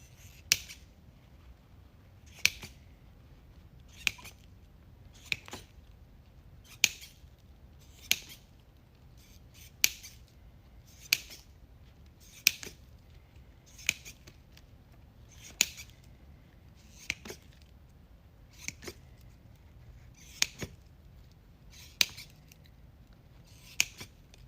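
Scissors snip off ribbon ends on a red plaid ribbon wreath, about fifteen crisp, evenly spaced cuts close by over a quiet background, without talk.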